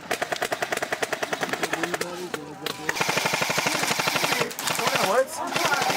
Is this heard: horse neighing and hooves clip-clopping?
no